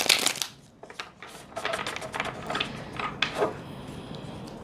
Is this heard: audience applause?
no